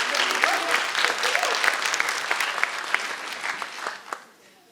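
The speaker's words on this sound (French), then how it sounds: "Ça fait beaucoup d'applaudissements." Audience applause at an awards gala for school achievement, a sustained burst of many hands clapping fairly close, with a few sharper claps standing out before it thins and dies away at the end.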